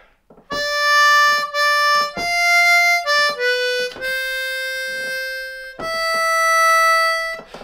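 Clean, unbent notes on a C harmonica playing a phrase of Silent Night, a slow series of sustained draw and blow tones with short breaks between them, close and clear.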